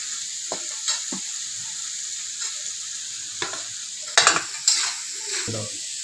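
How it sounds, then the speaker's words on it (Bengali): Cabbage, carrot and capsicum frying lightly in a pan with salt, a steady sizzle broken by clattering stirs and scrapes of a utensil against the pan, with louder stirring bursts near the end. "বাঁধাকপি ও গাজরটাকে দিয়ে তার সঙ্গে একই সঙ্গে তো হালকা ফ্রাই করে নিচ্ছি"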